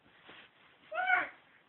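A person imitating a cat's meow, first a soft short mew and then a louder drawn-out meow, close and alone.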